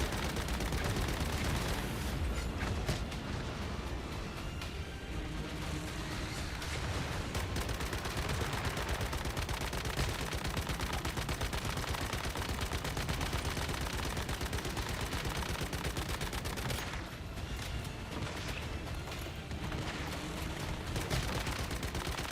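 Sustained, loud gunfire from the shooter game Once Human, dense rapid bursts running almost continuously with brief gaps, close and unbroken by talk.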